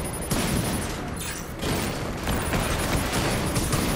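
Gunfire aimed at the Cloudburst tank in the video game Batman: Arkham Knight, a dense rapid barrage of shots and booming impacts, loud and continuous with no voices over it.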